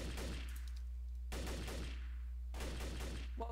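Rapid gunfire bursts from the video game Trouble in Terrorist Town crackle in three repeated volleys over a steady low hum, loud and close with no talking.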